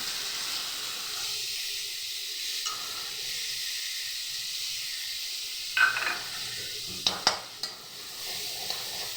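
A spice paste of cumin, coriander, Kashmiri and red chilli powder and turmeric goes into a hot pan, a steady hiss jumping to a louder sizzle, followed by spoon scrapes and clinks.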